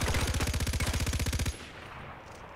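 Rapid automatic gunfire from a gun in the video game Far Cry 4 rattles off in a loud, even burst for about a second and a half, then cuts to quiet background.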